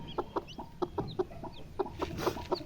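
A hen sitting on a nest of seventeen eggs clucks softly and steadily, each short note close and distinct, repeating in a loose rhythm with no talking.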